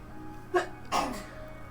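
A person sneezes once indoors, a short sharp intake followed by a louder burst, fairly close and alone over faint room hum.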